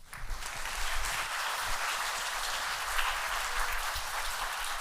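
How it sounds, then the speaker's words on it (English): An evening lecture audience applauds the speaker, a steady wash of many hands clapping at moderate distance that carries on evenly for several seconds without talk. "Please give him a warm applause."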